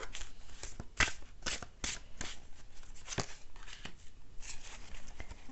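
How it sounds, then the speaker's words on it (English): Tarot cards are shuffled and drawn in quick, papery bursts of riffling and sliding. The bursts are close and moderately soft, with short pauses between them and no talk. "I'm going to go ahead and pull one more card here."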